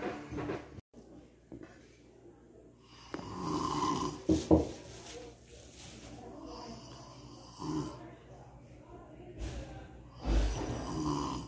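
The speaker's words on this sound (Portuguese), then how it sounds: "Chega, tava roncando aí, rapaz." A man asleep snores with deep, rough, rasping breaths recurring every few seconds, close and fairly loud, with some shuffling noises in between.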